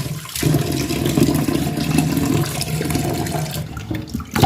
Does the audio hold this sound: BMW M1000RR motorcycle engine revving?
no